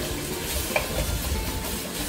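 Green onions and pork stir-fried in a pan, a steady dense sizzle with faint stirring scrapes underneath, continuous and close without talking.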